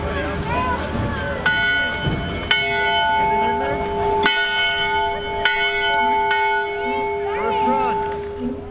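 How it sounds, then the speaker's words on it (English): A bell rung outdoors at Schweitzer, Idaho's largest ski resort, gives about six separate clear, ringing strikes in slow succession. Each tone hangs and overlaps the next, with light wind noise and faint voices underneath. "Ring the bell."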